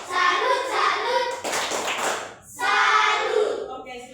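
Classroom children performing the rhythmic 'tepuk salut' clapping routine together, bursts of group hand claps mixed with their chanting voices, close and lively.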